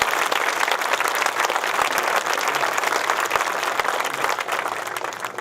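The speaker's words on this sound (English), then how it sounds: "Let's give them a round of applause." Dense audience applause fills the space from start to finish, many hands clapping loudly and steadily.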